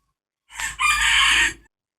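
A rooster crows once, loud and close, at a forest temple in Vientiane, Laos: a short first note, then a long sustained call that fades out, set against silence.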